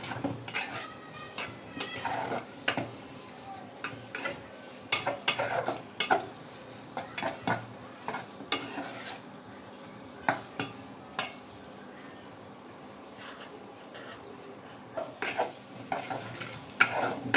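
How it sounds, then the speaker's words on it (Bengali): Prawns fry in a pan on an electric induction stove, with a soft sizzle beneath repeated sharp scrapes and clinks of a spatula stirring against the pan, irregular and fairly close throughout, with no voices. "ভালো করে নাড়তে হবে যেন নিচে না লাগে।"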